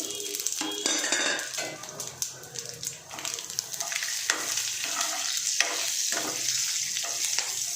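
Whole biryani spices, including bay leaf, cloves, cinnamon, kasuri methi and sampangi flowers, fry in a pressure cooker with a steady hiss, while a ladle scrapes and clinks against the metal pot up close.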